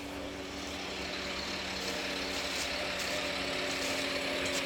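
A septic pump truck runs steadily while sucking waste out of a septic tank, a loud, constant engine and vacuum drone with no speech.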